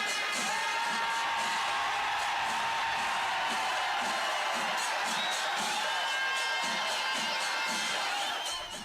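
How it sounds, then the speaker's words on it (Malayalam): A large festival crowd at Thrissur Pooram roars and whoops in sustained, loud cheering as an elephant raises its trunk in salute, with shouting voices blending into a dense, continuous wall of sound. "ആർപ്പുവിളികൾ."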